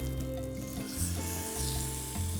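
Chicken thighs sear flat-side down on an induction cooker for Moroccan chicken, giving a steady close sizzle with a low hum and scattered soft rustles. Nobody speaks.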